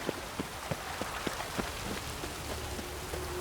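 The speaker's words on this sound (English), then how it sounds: "Rain again." Steady rain patters on a surface in The Witcher 3: Wild Hunt, with scattered drops ticking through a continuous soft hiss; no voices.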